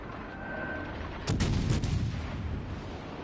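Battleship shells fire in a naval battle video game, a single heavy booming salvo with a sharp crack and rumbling tail over steady background game noise.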